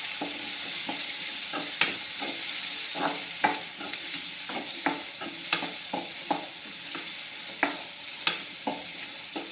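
Spices for tempering splutter and fry in hot oil for a vegetarian egg-style kuzhambu. Nearby there is a constant hissing sizzle dotted with sharp crackling pops and spoon scrapes at a steady pace, with no talking.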